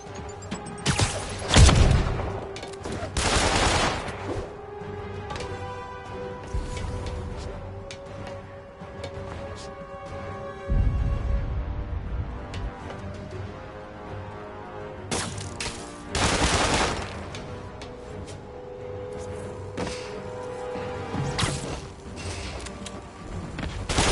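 Enemy gunfire aimed at Spider-Man in a Spider-Man game, with loud bursts of rapid shots in several separate volleys and mechanical clatter and booms in between.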